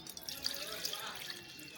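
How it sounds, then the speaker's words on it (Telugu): Water poured over washed rice in a bowl to soak it for an egg dum biryani, a soft, steady trickling and splashing that holds at an even, moderate level for about two seconds with no voices. "ఇప్పుడు ఇందులో వాటర్ పోసి ఒక 2 గంటల సేపు నానబెట్టాలి"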